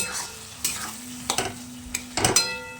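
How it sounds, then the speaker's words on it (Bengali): Chicken masala frying on a low gas flame is stirred with a utensil, producing a few scraping knocks and clinks over a soft sizzle, close and quiet, with no talking. "জল দিয়ে দিয়ে আমি এটাকে কষবো গ্যাসের ফ্লেমটা একদম লোতে রেখে"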